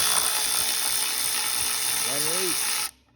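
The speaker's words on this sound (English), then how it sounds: "You can take your 12mm on your 3-inch extension, put it in reverse, Terry." Ratchet wrench with a 12mm socket on a 3-inch extension, set in reverse, clicking steadily to loosen a trim tab bolt on a Yamaha 60 horsepower outboard lower unit, close and continuous before stopping abruptly.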